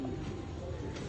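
A Ferozpuri pigeon cooing up close, a brief, low, throaty coo with a soft rolling pulse that fills the moment, clear and moderately loud.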